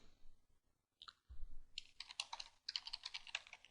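Quick bursts of computer keyboard typing, a rapid cluster of close, crisp key clicks after a short pause, with no voices.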